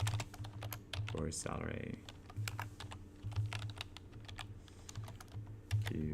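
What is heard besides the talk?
typing questions on a computer keyboard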